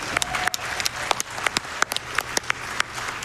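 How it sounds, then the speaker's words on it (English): Live audience at the Summer Games Done Quick speedrunning marathon breaks into applause, a moderately dense patter of many clapping hands with distinct sharp claps popping out, steady and fairly close for the whole stretch. "Give yourselves a round of applause."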